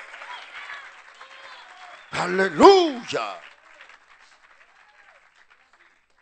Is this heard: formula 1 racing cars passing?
no